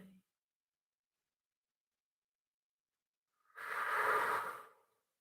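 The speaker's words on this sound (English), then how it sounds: "Breathe deeply." A single deep breath during a yoga session, rising in the second half as a soft, breathy exhale or inhale after a long silence.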